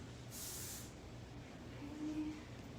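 A single short burst of hairspray hisses close by for about half a second, followed by quiet room noise.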